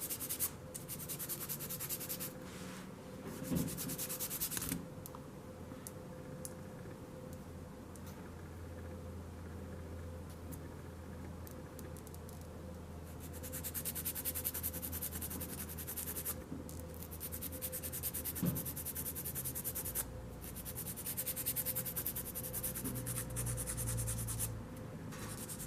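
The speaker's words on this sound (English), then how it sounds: "So I will just begin filing my nail until I'm happy with the size." A nail file scrapes back and forth across an acrylic fake nail in repeated close, soft rasping strokes, with short pauses between passes.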